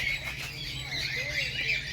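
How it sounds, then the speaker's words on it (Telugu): Grey cockatiels squawking in a bird enclosure on a safari tour, shrill repeated calls mixed with a person talking nearby. "బూడిద రంగు కాకటీలు ఇయే అక్కడ ఉన్నాయి."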